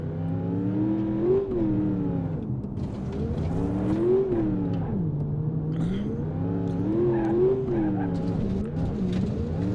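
The engine of a Gavril H45 Boxvan in BeamNG.drive revs up and down in repeated waves as the van pulls away and shifts. The drone stays steady and close throughout.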